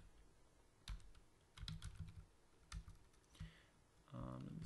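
Keys clack on a computer keyboard as a Gmail address is typed, in short uneven clusters of close, crisp strokes, ending as a voice begins speaking.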